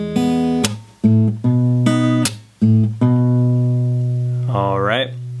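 Fingerstyle percussive acoustic guitar plays a phrase from Swing Low, Sweet Chariot, ringing chords broken by sharp string-slap hits, then a sustained chord with a quick bend or slide at the end, close and clear with no talking.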